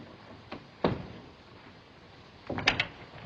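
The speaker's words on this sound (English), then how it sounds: "Shut the door." An old 1937 film scene with a stateroom door shut, heard as a couple of dull knocks and a thud followed by a rattling latch click, moderately close amid a quiet room.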